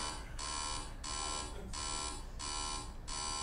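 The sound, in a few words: alarm clock ringing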